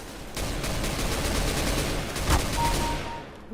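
An SG 553 rifle fires a sustained rapid burst in the video game CS:GO, a dense rattling stream of shots lasting about three seconds before fading.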